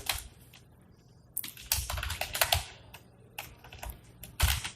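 Code being typed on a computer keyboard during a programming lecture on pointers: quiet, irregular keystroke clicks arrive singly and in quick bursts, with no talking.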